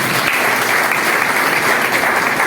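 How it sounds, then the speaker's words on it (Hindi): An audience at an Ayurveda business presentation claps loudly and continuously, a thick wash of applause filling the whole moment without speech. "जोरदार ताली होना चाहिए।"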